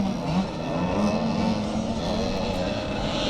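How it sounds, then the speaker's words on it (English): Small-wheel 85cc and 65cc motorcycles race uphill at a charity scramble in Northern Ireland, their engines making a steady, loud, buzzing drone in the middle distance with no talk. "as we watch the riders coming round in this 85cc and 65cc small wheel race"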